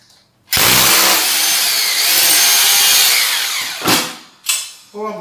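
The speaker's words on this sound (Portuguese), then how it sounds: "eu posso fazer já o furo de baixo" Power drill bores the lower hole in drywall, a loud continuous whine lasting several seconds, followed by a few short bursts of handling noise.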